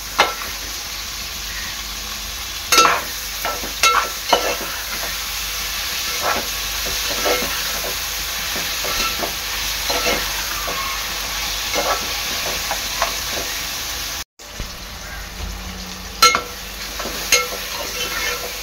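Onion and tomato frying in a pan for prawn biryani, a steady close sizzle with intermittent clacks and scrapes of stirring throughout.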